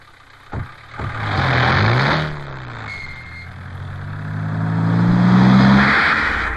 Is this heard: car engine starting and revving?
yes